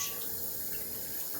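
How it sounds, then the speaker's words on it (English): Hot water running from a tap into a jar, a steady close hiss and splash of filling liquid, fairly quiet and continuous with no talking. "I like to fill up the jar just like I did before."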